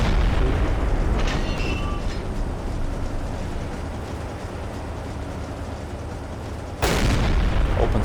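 Deck gun fire and explosions from a U-boat engagement in Silent Hunter 3: a dense, rumbling barrage of booms with a sharp, loud blast near the end, heard alone without speech.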